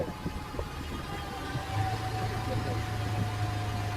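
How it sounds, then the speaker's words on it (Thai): A car engine drones steadily at low pitch, with a deeper hum swelling in after a couple of seconds as engine braking holds it back on a steep downhill road. "ท่านจะได้ยินเสียงรถ ใช้ เอนจินเบรกลงเสียงเครื่องยนต์กระหึ่มเลยครับ"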